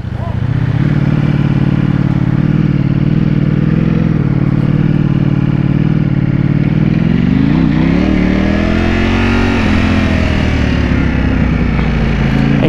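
A Ducati V4S motorcycle engine being ridden out of a dealership runs loud and close, holding a steady idle-like drone before climbing through a rising rev and easing back, with no pause in the engine sound.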